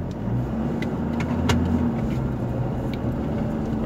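Steady engine and tyre rumble from an SUV on Michelin LTX Force all-terrain tyres rolling toward mud ruts, a constant close drone without speech.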